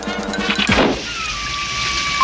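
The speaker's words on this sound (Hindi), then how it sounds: "अरे नहीं, तूफान, हमारे पिकनिक का सत्यानाश हो जाएगा।" A rainstorm in a cartoon: a loud, steady rush of rain with a heavy thud partway through, followed by a faint sliding tone under the continuing downpour.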